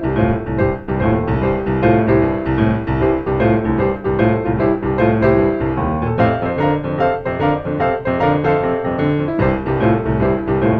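Solo boogie woogie piano plays a driving, rhythmic bass line with chords, loud and close, stepping down through a closing 5-4 walk down.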